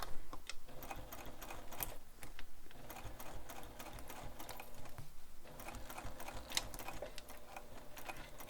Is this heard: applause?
no